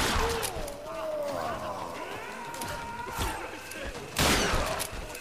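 Gunfire from a weapon in the video game Tomb Raider: a few sharp, loud shots spaced apart, the heaviest near the end, mixed with game effects and a voice speaking over them.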